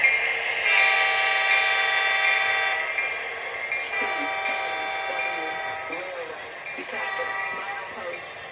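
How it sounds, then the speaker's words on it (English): An HO scale SD70ACE model locomotive sounds a loud, close horn in three long blasts with short breaks, over faint ticking from the model layout. "It's really loud, and overall a pretty decent locomotive"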